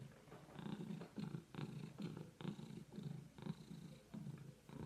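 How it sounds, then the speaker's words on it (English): A cat purring up close, a steady rumbling purr in rhythmic pulses that rise and fall with each breath, loud and continuous with no talking. "Can I just show you the cat?"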